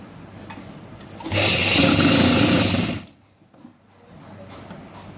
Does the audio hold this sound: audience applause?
no